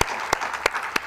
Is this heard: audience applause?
yes